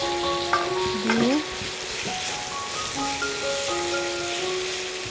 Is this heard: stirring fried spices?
yes